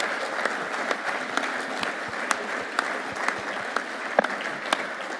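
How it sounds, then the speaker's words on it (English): Conference audience applauding steadily, a dense wash of clapping with a few louder individual claps standing out, sustained at moderate volume throughout. "our very own Brolly, O'Rourke and Spillane, give them a big round of applause, please."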